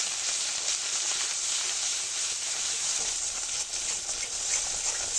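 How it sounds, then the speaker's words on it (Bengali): Chili powder, turmeric and salt sizzle in hot oil in a pan, a dense, steady hiss that holds at an even level throughout with no voices over it. "মশলাটা খুব ভালো করে ভেজে নেব"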